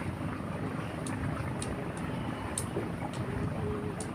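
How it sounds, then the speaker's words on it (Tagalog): Strong outdoor wind at sea on a boat trip, a steady loud roaring rush with constant buffeting and no clear gaps. "Grabe ka hangin diri no."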